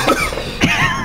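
A single short cough lands right at the start, then comes a quieter throaty burst with a voice-like tone trailing after it.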